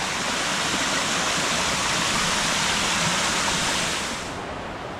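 A mountain creek tumbling down cascades in the Great Smoky Mountains makes a loud, steady rush of white-noise water that eases slightly toward the end.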